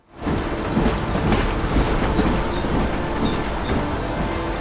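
A train rumbles past in a rainy scene from the video game Heavy Rain, a steady loud roar with faint rhythmic clatter under rain, no voices.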